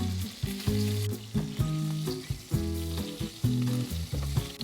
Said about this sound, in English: We're just gonna add in some oil, and then we're just gonna add in the beef mince.